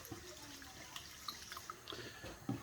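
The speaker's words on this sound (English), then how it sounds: "I'm just going to rinse out the rice" Tap water runs and splashes faintly into a kitchen sink as rice is rinsed, with small drips, clinks and soft handling noises scattered through the flow.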